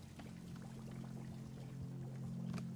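Excess tea poured out in the cozy game Wanderstop, a steady, soft liquid stream running for a few seconds over a low hum, with no talking.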